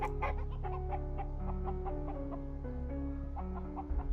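A chicken clucking in a dungeon crawler video game, a series of close, repeated clucks and bawks over a droning musical background.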